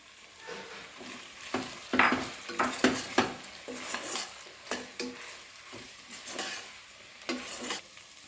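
Mint and soy chunks tossed into a frying pan for vegetable biryani, with a spoon scraping and clinking against the pan in irregular strokes over a quiet sizzle, close up and without talk.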